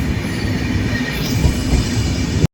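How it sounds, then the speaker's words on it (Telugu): A Konkan Railway train between Mangaluru and Madgaon creeping slowly over track under maintenance near Murudeshwar, producing a loud, heavy, continuous rumble and wheel noise close by that cuts off abruptly at the end. "మధ్యలో అయితే ట్రైన్ మెల్లగా వెళ్తుంది"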